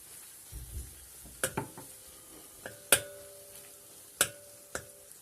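Red pepper flakes being stirred into a toast filling, heard as soft scraping and several sharp utensil taps against a bowl, close and spaced unevenly over a quiet background.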